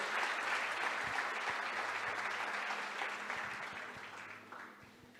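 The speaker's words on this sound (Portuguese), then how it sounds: "Você pode dar um aplauso forte à palavra de Deus" Strong applause from a church congregation, a dense wash of clapping that holds steady and then slowly fades toward the end.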